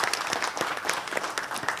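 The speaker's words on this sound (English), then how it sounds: "And so, folks, round of applause for Wayne Rosenfeld" Audience applause at a community board meeting, steady dense clapping from a room of people throughout, close and fairly loud.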